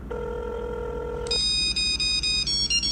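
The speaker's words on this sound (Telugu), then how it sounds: "ఒకసారి అర్జున్ గడికి ఫోన్ చేద్దాం." A phone call goes through on a handset: a steady tone sounds for just over a second, then a high, warbling ringtone pulses in quick bursts, close and clear.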